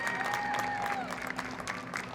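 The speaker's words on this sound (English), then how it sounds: "How about one more round of applause for Madison Collins and Natalie Gale" Applause at a high school softball game, a crowd clapping steadily and fairly near, a thin whistle-like tone over the claps and tapering slightly toward the end.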